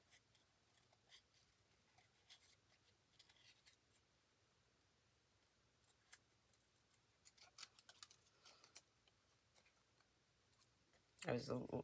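Scissors cutting cardstock for a paper craft, a series of faint close snips and rustles that grows busier toward the end, with a brief louder burst of handling noise.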